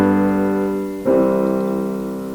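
Perfect cadence of chord 5 resolving to chord 1, two sustained chords, the second entering about halfway and ringing out steadily, clear and alone with no voices.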